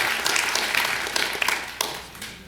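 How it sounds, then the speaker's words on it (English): Audience applauding at a 2006 oath of office ceremony, a burst of many hands clapping near and loud, with sharp individual claps, tapering off toward the end. "we'll clap for her anyway"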